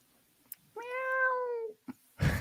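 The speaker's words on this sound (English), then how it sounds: "So many cats in this place" A cat lets out a single drawn-out meow, close and clear, framed by a few soft clicks and a brief burst of noise at the end.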